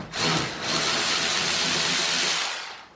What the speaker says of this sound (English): now I can remove the two screws that are holding in the horn and